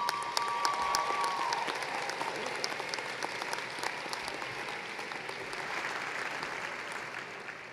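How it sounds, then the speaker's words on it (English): Sustained applause from a large audience at the Huron High School class of 2023 graduation ceremony, a dense, even roar of clapping hands heard from a distance with no talking. "Please join me in a round of applause for this Huron High School team."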